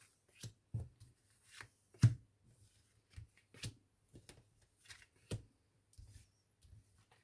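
Tarot cards are shuffled and laid out on a surface as a run of soft, separate riffles and slaps, quiet and close, with short pauses between them.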